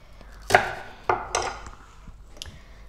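Knife cutting through tender cooked pork on a cutting board, three or four separate close chopping thuds spaced unevenly, each with a short sharp attack, followed by a fainter tap.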